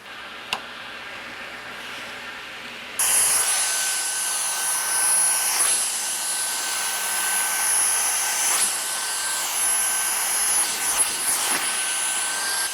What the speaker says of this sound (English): I highly recommend the use of a Dyson Scotch vac for cleaning off your conveyor belt.